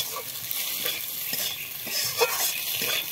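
Semolina and potato snack mixture frying in a pan while being stirred, a steady close sizzle with scraping stirring strokes throughout, no voices.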